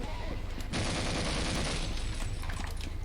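Heavy gunfire from a tank in the Half-Life game, Surface Tension chapter: a loud, sustained burst of rapid shots that starts abruptly partway in and roars on densely to the end.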